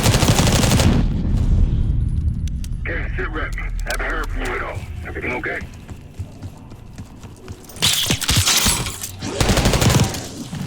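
Bursts of rapid gunfire and loud impacts in Call of Duty: Black Ops 6 at the start and end, with a voice talking over a radio-like channel in the quieter middle.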